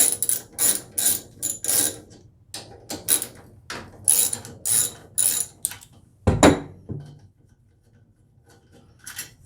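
Socket ratchet clicking in quick bursts as two bolts come off a snow blower cover plate, close and fairly loud, with a heavier clunk partway through as a part shifts.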